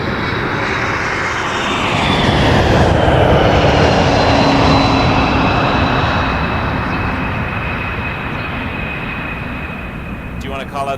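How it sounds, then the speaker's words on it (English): An Embraer 195 airliner arriving from Halifax at Toronto Pearson passes on landing, a loud broadband jet roar with a whining engine tone that swells to a peak midway and slowly fades, while people talk nearby. "Embraer 195 from Halifax coming in next."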